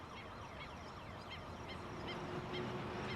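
A colony of birds along the LA River, among them barn swallows and snowy egrets, calling in repeated short chirps and squawks at a moderate distance over a steady outdoor background.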